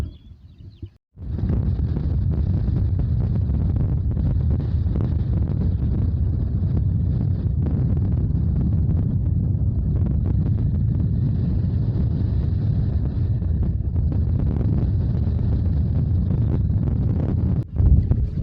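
Wind on a Peak District hill walk toward Chinley Churn from Buxworth: strong gusts buffet the microphone in a loud, continuous roaring rumble that starts abruptly after a brief quieter moment and persists almost without pause.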